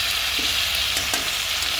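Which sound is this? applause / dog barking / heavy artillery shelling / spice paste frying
spice paste frying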